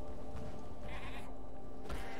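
Goats bleating in the video game Path of Exile, two or three short nasal bleats in quick succession over a busy, steady game soundscape.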